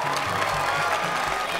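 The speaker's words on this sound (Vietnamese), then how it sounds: "Vỗ tay cho người đẹp." A burst of clapping and cheering from a TV show audience, loud and continuous, with lively voices mixed in.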